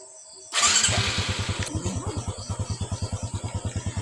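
A motorcycle engine starts with a sudden loud burst, then settles into a steady, fast, close idle putter of regular thumping pulses.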